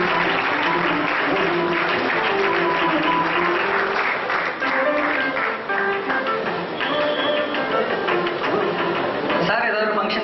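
An audience at an award ceremony for a blood donation camp claps steadily as the recipient is welcomed to the stage, with tonal background sound running underneath.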